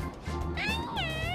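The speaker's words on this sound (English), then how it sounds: "Meow." A cat meows in the Persona 5 video game, with two drawn-out rising meows heard close and clear over faint game background sound.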